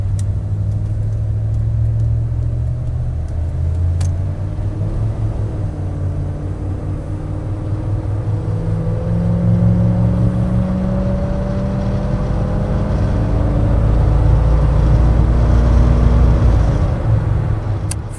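A 1987 Chevrolet C10 Silverado pickup with its original throttle-body-injected 350 V8 and automatic transmission pulls under throttle: a loud, steady engine drone rises gradually in pitch, heard from inside the cab with no talking.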